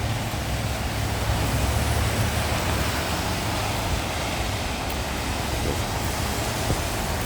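Heavy rain falls on a flooded street, a loud, unbroken broadband wash of water and downpour with a low rumble underneath, steady throughout and with no voices.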